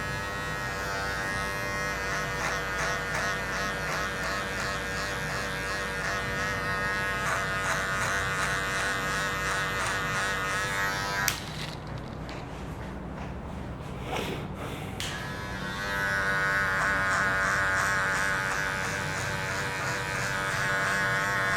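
Electric hair clipper buzzing steadily and up close as it cuts hair in a barber's fade lesson, with one short break in the middle and no talk.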